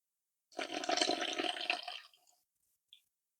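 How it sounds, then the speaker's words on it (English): Warm water poured into a sourdough starter in a kitchen, a close splashing gush lasting about a second and a half that tapers off, followed by one small drip. "I'm going to add my warm water to my sourdough starter."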